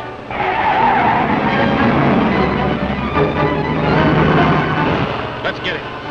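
A car skids hard in a 1930s chase, a loud, sustained tire scrape and engine roar that fills the whole stretch, with a brief sharper burst near the end.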